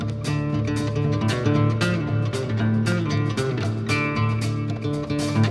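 Guitar strung with only three strings, played in a steady rhythmic pattern of plucked notes that sits loud and close with no other sounds alongside.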